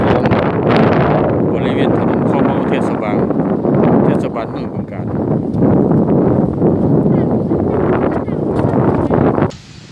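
Strong cold wind gusts across the Mekong riverbank at Bueng Kan, roaring and buffeting the microphone in a loud, continuous rush, easing only briefly before dropping off at the end.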